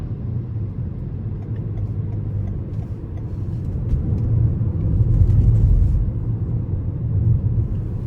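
A 2021 Toyota Venza XLE AWD in sport mode accelerates onto an interstate, heard from inside the cabin as a steady low engine and road rumble that swells midway and stays strong, with no talk.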